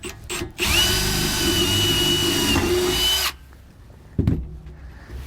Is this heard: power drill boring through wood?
yes